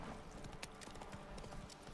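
Roach the horse trotting in The Witcher 3, steady rapid hoof clip-clops on hard ground with dense background game ambience, no talk.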